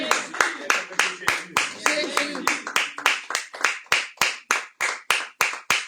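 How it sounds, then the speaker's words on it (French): A church congregation at a Sunday service claps in a steady, loud rhythm of about three claps per second, with voices calling out beneath the first few seconds. "Quelqu'un peut acclamer."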